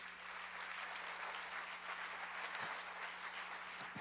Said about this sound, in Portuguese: pode aplaudir, glorifique ao Senhor